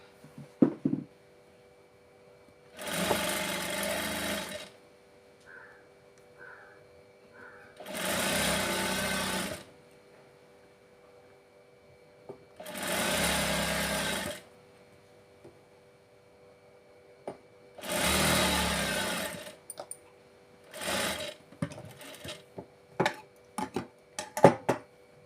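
A sewing machine stitches thread piping onto a blouse in four steady, sustained runs separated by short pauses, followed by a string of quick, sharp clicks as the work is adjusted.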